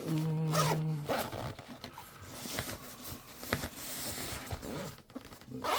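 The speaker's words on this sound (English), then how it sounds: "We got a little zipper issue going on here." A zipper rasps in a few short, scratchy pulls close by, amid rustling handling noise and a brief low hum at the start.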